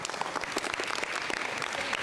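A school audience at a STEAM academy assembly breaks into loud, dense applause, with many hands clapping at once for the whole short stretch.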